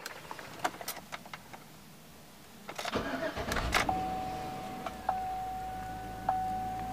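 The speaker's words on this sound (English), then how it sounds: "Let's go ahead and start the truck." Clicks of keys, then a GM pickup truck engine cranks and catches after a throttle body relearn, settling into a steady idle with a faint whine; close and moderately loud.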